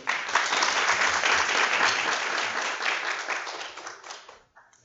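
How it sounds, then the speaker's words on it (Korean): A conference audience claps as care-home director Kim Kang-su is welcomed onstage, a loud, dense burst of applause that stays full for about four seconds before tapering off and stopping. "김강수 원장님, 박수로 맞아주십시오."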